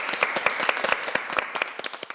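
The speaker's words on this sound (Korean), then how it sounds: "우리 스스로에게 한 박수 한번 드리고 하겠습니다" A studio audience at a Korean talk show gives a brief round of applause, with individual claps distinct and irregular, moderately loud and fading toward the end.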